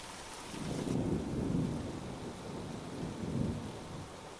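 Heavy rain pours steadily in a thunderstorm, with low rolling thunder swelling and fading across the whole stretch, close and loud, with no voices.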